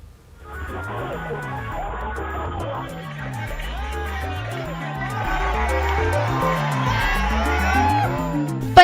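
A village crowd runs along behind Bhojpuri star Khesari Lal as he canvasses lane by lane in a panchayat election, with steady crowd noise, shouts and excited voices throughout, swelling toward the end.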